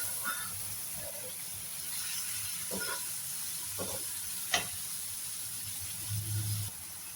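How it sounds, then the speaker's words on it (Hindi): Half a kilo of tomatoes cooking in a pan for keema, a soft continuous sizzle with a few light stirring clicks and a faint bubbling near the end, and no talk. "और अब डाल रही मैं इसके अंदर आधा किलो टमाटर। टमाटर डाल के पकाऊंगी टमाटर को नरम होने तक"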